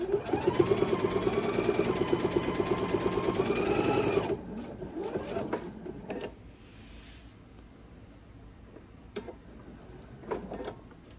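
A sewing machine stitches quilt binding in a loud, steady mechanical whir for about four seconds, then stops; a few faint clicks and handling sounds follow in the quiet.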